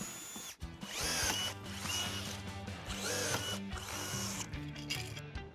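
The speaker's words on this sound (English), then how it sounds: "let's drill out 2 holes using a 3/16 drill bit" A power drill with a 3/16-inch bit whines steadily, its pitch dipping and rising as it bites into material on a Kia Carnival, with no talking.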